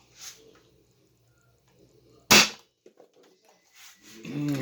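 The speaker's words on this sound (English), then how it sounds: "Sound like a burst dart right there." An Adventure Force Nexus Pro dart blaster fitted with a compressed stock spring fires a single burst dart, a sharp loud snap amid quiet room tone, with brief voice at the end.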